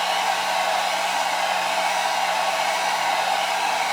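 A heat gun blows a loud, steady, unbroken whoosh close up, warming the tyre of a 1/8 scale Pocher Lamborghini Aventador model car.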